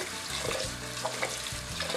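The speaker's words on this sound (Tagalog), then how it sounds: "Lagyan ng tubig at hugasan." Glutinous rice being washed in water in a pot, a continuous soft sloshing and swirling with faint splashes, close and moderately quiet.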